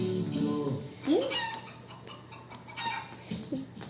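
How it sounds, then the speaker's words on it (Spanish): A hen clucks and calls, a short rising cackle near the middle with softer clucks around it, mixed with a child's and an adult's voices in an animal sounds game. "¿Qué animal viene? La gallina."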